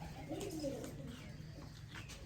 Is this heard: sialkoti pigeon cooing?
yes